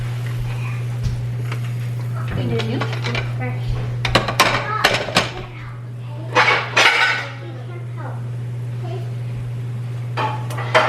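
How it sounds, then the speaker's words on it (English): Dishes, glasses and cutlery clink and clatter as a dishwasher is unloaded in a home kitchen in the morning, with an irregular series of close knocks and chimes under a steady electrical hum and occasional talking. "he's putting the dishes away. And that's one of his daily chores, is to unload the dishwasher in the morning."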